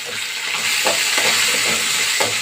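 Onions, curry leaves and green chilies fry in a pan for a flat bean and potato curry, giving a steady, close sizzle with a few soft stirring scrapes and no talking.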